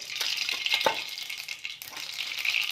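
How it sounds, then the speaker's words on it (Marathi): Mustard seeds dropped into hot oil for a bitter gourd dish give a close, crackling sizzle with light popping, fairly soft and continuous over a few seconds. "तेल आपलं कापलेलं आहे मोहरी टाकणार आहोत"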